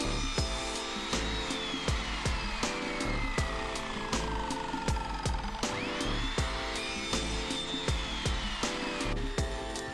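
A power tool cuts plywood into strips, giving a continuous whining drone broken by regular sharp ticks, with the motor pitch sliding down and then back up as the cut loads it.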